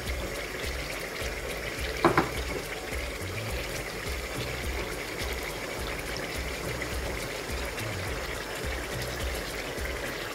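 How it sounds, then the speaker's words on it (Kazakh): Meat sizzles and fries steadily in a pan with a continuous crackling hiss, a brief clatter of stirring near the two-second mark, and no voices over it. "Етіміз қуырылып жатқан кезде"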